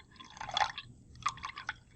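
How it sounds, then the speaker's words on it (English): Displaced water trickles and drips from the spout of an overflow can as an object is lowered in during an Archimedes' principle lab, with two soft bursts of close, quiet splashing and no voices. "we're going to lower it in at a constant speed so the water just seems to pour out without going over the edges"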